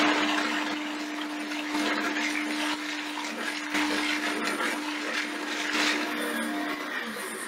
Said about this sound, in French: Allez, on blende.